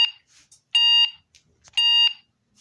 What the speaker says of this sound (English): That was an alarm.